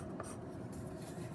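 Handwriting a letter on paper, a soft, close scratching and rubbing of the writing tool that continues quietly and evenly, with no speech.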